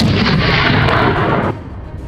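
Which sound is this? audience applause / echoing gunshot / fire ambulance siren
echoing gunshot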